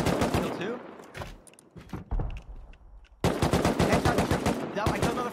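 Close, heavy LMG machine gun fire in the survival game Rust, rapid sustained bursts with a brief lull midway before a dense, loud stretch of continuous shots; voices talk underneath.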